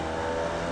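Formula Vee race car engine in iRacing on throttle, a steady droning buzz held at constant pitch for under a second, moderately loud and alone.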